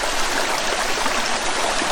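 A waterfall and creek in the Coopers Creek area rush and splash in a steady, dense wash of flowing water, loud and continuous throughout with no voices.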